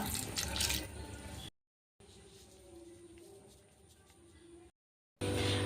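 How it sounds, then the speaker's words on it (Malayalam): Water runs from a tap or pours into grated beetroot in a pan for cooking, a soft, close splashing flow broken by two short silent gaps. "ഇനി ഇതിലേക്ക് നമുക്ക് വെള്ളവും ഉപ്പും ചേർത്ത് കൊടുക്കാം"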